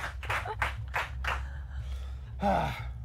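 A few scattered claps ring out over a low electrical hum, followed by a breathy exhale near the end.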